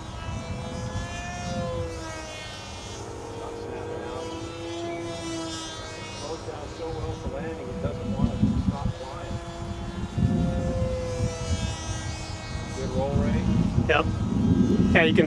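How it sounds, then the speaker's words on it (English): An RC foam model airplane, bungee-launched, drones overhead with a steady propeller whine that swells and fades as it passes, while people talk nearby and a light breeze blows. "This would be a good sport flying airplane."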